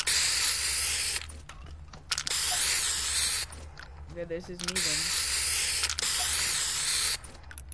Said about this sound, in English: Do I have any more spray paints?